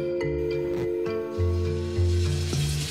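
Beef shank, pork and a veal chop sear in a pan for Sunday gravy, giving a steady close sizzle and crackle with a low hum underneath. The frying swells louder around the middle and end, with no talking.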